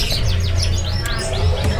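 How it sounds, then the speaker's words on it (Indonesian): Brown-breasted forest birds (SRDC) chirping at a busy Indonesian bird market, a steady run of quick, high tweets and rising call notes close by over a low hum of market background. "ini ada burung SRDC, ikatan rimba dada coklat."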